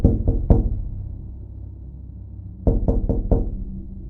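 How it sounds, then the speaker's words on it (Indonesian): Knuckles rap on a car's window glass in a night-time roadside scene, first a quick group of three sharp knocks, a pause, then four more firm, close knocks. "Pria itu pun mengetuk kaca."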